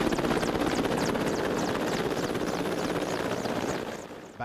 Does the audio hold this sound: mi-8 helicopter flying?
yes